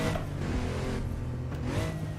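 Renault Clio Williams rally car in the racing game Dirt, its engine droning steadily and loud throughout, with the pitch rising and falling slightly as it revs.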